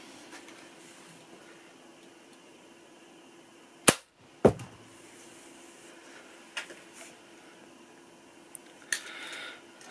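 A BSA Scorpion T-10 PCP air rifle fitted with a Weihrauch silencer fires a single sharp, muffled shot, then gives a second quick crack half a second later, with faint clicks afterward against a quiet background.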